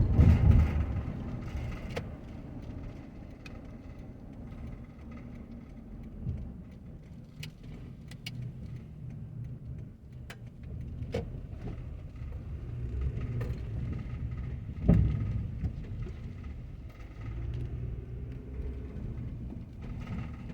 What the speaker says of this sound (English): I'm driving towards downtown, and then I'm going to turn around and I'm going to drive down the other way.